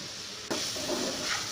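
Steady broadband hiss of bitter gourd frying in a pan, jumping louder halfway through as something hits the hot oil, with no talking.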